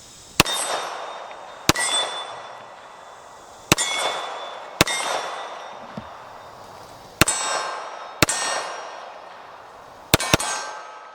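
Sharp shots from a Springfield Emissary 1911 .45 ACP pistol ring a small steel gong outdoors, about eight reports in an uneven rhythm, the last two close together, each trailed by a bright lingering metallic clang.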